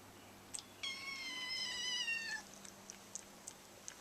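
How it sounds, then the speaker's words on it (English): A feral kitten lets out one clear drawn-out meow close by and quiet, with faint low purring and small handling noises before and after. "Yes, he's purring through the whole thing."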